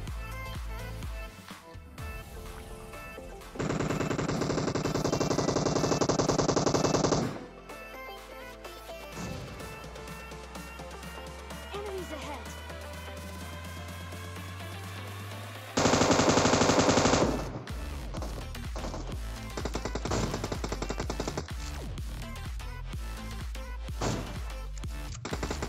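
Gunfire in the mobile battle-royale game PUBG Mobile: loud, rapid automatic bursts crack out in long sustained volleys, separated by shorter pauses and scattered single shots, close and dominant throughout.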